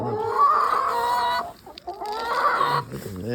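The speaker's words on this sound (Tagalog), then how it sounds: "aking mga manok" Backyard chickens cluck and call close by in two loud bursts separated by a short lull, with busy overlapping hen sounds and no talking.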